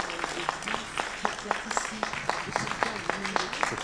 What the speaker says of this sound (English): I think they deserve a very, very warm round of applause.